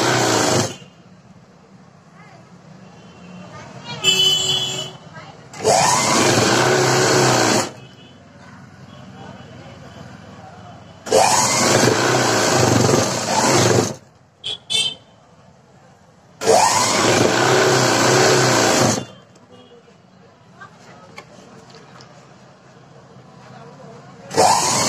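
Sewing machine stitching fabric to make a thin dori (cord), running in three long loud bursts with quiet pauses between them, plus a few brief shorter runs.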